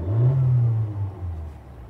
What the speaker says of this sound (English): this one's for your turbo. So I'll stab the throttle a little bit.